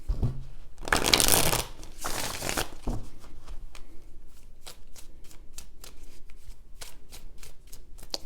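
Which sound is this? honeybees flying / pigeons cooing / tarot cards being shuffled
tarot cards being shuffled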